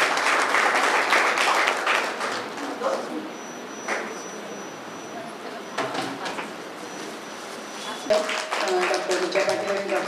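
Applause from an audience honouring women at a Navratri felicitation event, steady broadband clapping through most of the stretch, fading then swelling again, with a voice talking over it in places.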